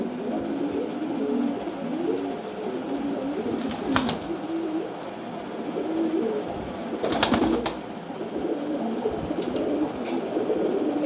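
Pigeons coo steadily in a loft that holds around fifty birds, a soft continuous burble of overlapping calls with a couple of brief louder rustles or wing flutters, no talking.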